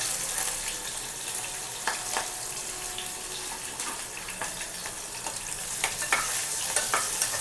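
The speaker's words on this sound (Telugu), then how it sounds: "ఆయిల్ మరిగిందండి పచ్చిమిర్చి వేస్తున్నాం ఉల్లిపాయ ముక్కలు కూడా వేసుకుంటున్నాం" Green chillies and onion pieces frying in hot oil for pendlam dumpa curry, a steady hiss and crackle with occasional stirring clatter and taps against the pan, close by.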